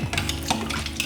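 A large ladle stirs Rooh Afza syrup into water, making a continuous swishing slosh with faint scraping clinks against the pot, close and steady with no talking.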